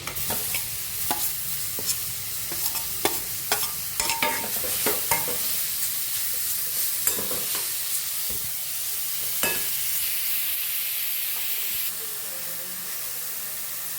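Cabbage stir-fries in butter in a pan, sizzling with a steady bright hiss. Close, quick scraping and stirring clicks from a spoon recur over it, and the sizzle runs on alone near the end.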